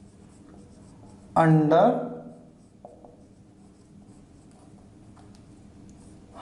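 Marker or chalk strokes on a classroom board, a brief burst of squeaky scribbling lasting under a second, heard close amid a teacher's speech and faint room noise.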